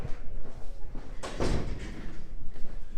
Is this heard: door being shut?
yes